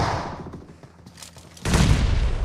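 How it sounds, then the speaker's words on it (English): Grenade blast in a PUBG tournament match, a loud booming burst at the end following a stretch of gunfire and game noise, with crackling debris trailing after. "Oh, the nade!"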